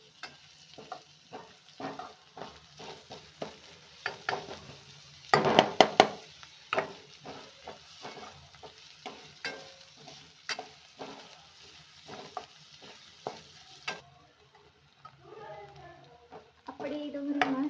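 Onions browning in a pan as part of a pasta recipe, with steady frying sizzle under repeated clattering strokes of a spoon stirring them, close and moderately loud, with no talking.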